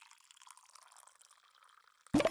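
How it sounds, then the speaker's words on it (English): In the video game Barista Sim, an espresso shot is tipped from a shot glass into a cup, giving soft dripping and trickling that ends in a sudden, louder liquid splash at the close. "We have the shot glass, which we will then pour into the cup."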